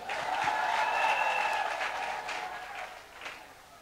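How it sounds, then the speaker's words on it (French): An audience at an investiture ceremony for messengers of President Laurent Gbagbo claps, with the applause swelling early and then thinning out, while a few voices and cheers are mixed in. "Applaudissez pour vous-même."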